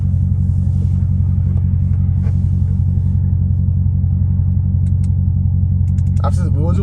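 An 800 hp Dodge Challenger Hellcat Redeye rumbles loud and deep under hard acceleration, a thick continuous low roar filling the cabin while brief voices talk over it near the end.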